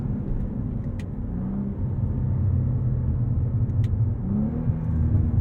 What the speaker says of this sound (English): Take it all the way out to red line.